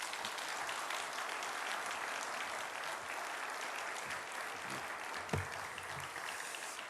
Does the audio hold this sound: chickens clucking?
no